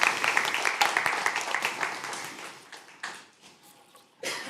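Audience applause after a presentation at a conference, dense clapping that starts loud, thins out and fades over several seconds, with a brief renewed swell at the end.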